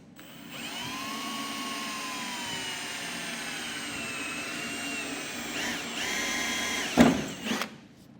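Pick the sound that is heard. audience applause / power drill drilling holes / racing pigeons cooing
power drill drilling holes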